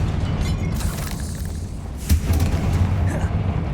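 A fire-blast spell in Hogwarts Legacy bursts with a single sharp boom midway, followed by a low rumbling tail over steady game ambience.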